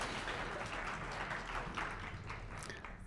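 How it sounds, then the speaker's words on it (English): A debate audience applauds the candidates, a dense, even wash of clapping held at steady strength throughout and sounding somewhat distant. "let's give the candidates one more round of applause because they're doing a great job."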